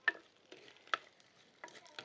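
Cumin, mustard seeds, chana dal, urad dal and curry leaves tempering in hot oil for horse gram rasam, giving a few faint, scattered crackles and pops with quiet gaps between them.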